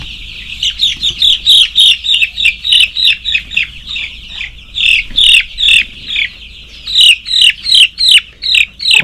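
Eight-day-old chicks peep in a steady stream of high, bright chirps, many short calls overlapping in quick rhythm, loud and close with no talking.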